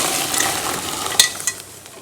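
Sago pearls go into a pot of boiling water and are stirred, giving a soft bubbling hiss with a couple of light clinks, brief and close.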